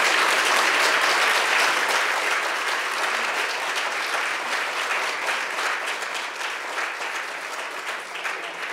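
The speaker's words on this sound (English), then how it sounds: "can we please have a round of applause?" Sustained, full applause from an audience thanking panelists at a racial healing through arts and culture event, a dense wash of many hands clapping steadily and slowly easing off.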